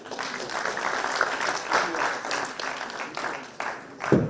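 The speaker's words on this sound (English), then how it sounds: "another round of applause" Audience applause at a national conference on farmer-herder relations in Nigeria, a steady spread of clapping lasting several seconds with a few louder claps near the end.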